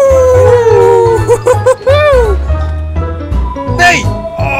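A dog howls in the video game GTA V, with long wavering tonal cries rising and falling over loud game sound, and excited voices talking over the howls.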